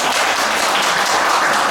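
Dense, even applause from a Buddhist dharma gathering for a monk, unbroken and fairly loud for a brief stretch.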